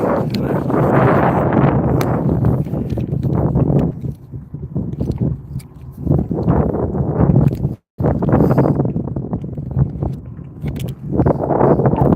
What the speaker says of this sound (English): A little bit windier.